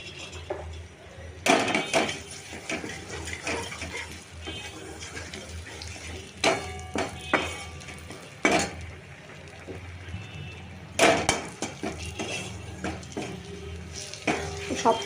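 Hilsa fish and eggplant curry stirred in a pan, with intermittent scraping and clattering of a utensil against the pan in irregular bursts over a watery background, close by.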